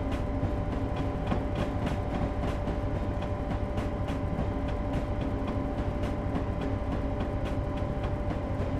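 Train rolling along rails in the Railworks simulator, a steady continuous rumble with repeated clickety-clack wheel beats over rail joints, loud and even throughout with no talking.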